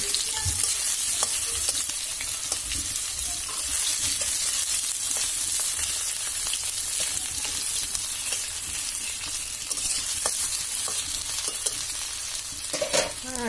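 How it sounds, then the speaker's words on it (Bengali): Potatoes fry in hot mustard oil in a home kitchen pan, a continuous bright sizzle broken by occasional stirring scrapes and pops, close and steady with no talking. "সম্বাসে আলুটা সম্বাসে দিয়ে ভালো করে ভাজা ভাজা করব"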